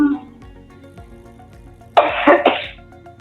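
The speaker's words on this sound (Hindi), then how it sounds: "खांसी हो गई आपको?" Two quick, harsh coughs from a guest on an Urdu talk show come close together, loud and near, after a quieter stretch with faint background sound.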